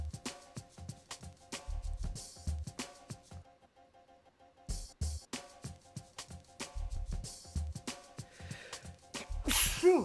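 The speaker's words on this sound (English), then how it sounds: "Sneezed on stream." A person sneezes while working alone at a computer, a short sharp burst amid quiet mouse clicks and keyboard taps, with other faint clicks and rustles scattered around it.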